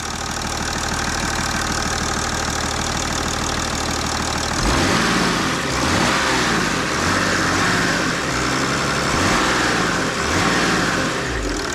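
An Ursus C-360 tractor's 1.6 diesel engine, running without its hood, idles with a steady clatter, then revs up and stays loud and rough, knocking close by.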